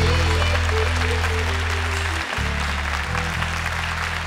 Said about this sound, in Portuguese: Vamos aplaudir esta canção